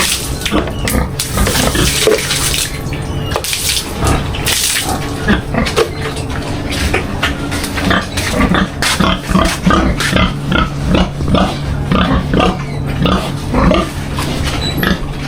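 Pigs grunting and squealing close by on a farm, a dense run of repeated calls over splashing water as the animals are bathed, steady and busy throughout the whole stretch.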